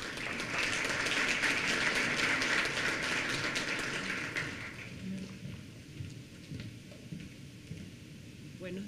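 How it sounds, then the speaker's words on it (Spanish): Audience applause at a formal opening session of a 2013 Latin American conference in Bogotá, greeting Dr. Rangel Melzi: dense, steady clapping for about five seconds that then thins and fades into room noise with faint voices. "Recibimos con un fuerte aplauso a la doctora Rangel Melzi."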